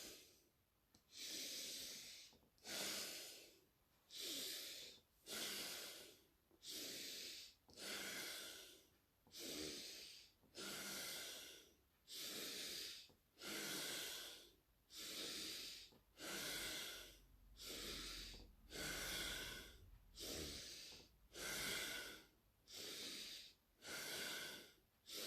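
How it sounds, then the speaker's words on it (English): Long, slow breaths during a breathing exercise come in a steady rhythm of about sixteen airy exhalations and inhalations, each lasting about a second, close and breathy with brief pauses between. "breathing out."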